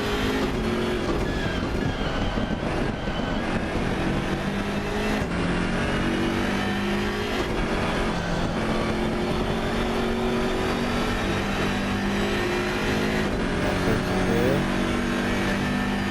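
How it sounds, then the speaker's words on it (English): A turbocharged BMW race car with a blow-off valve races in the Assetto Corsa Competizione video game, its engine droning loudly and continuously through shifting revs, with no talk. "do love the sound of the BMW with the turbo and the blow-off valve"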